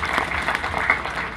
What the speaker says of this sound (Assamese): এটা হাত চাপৰি পালে ভাল আছিলে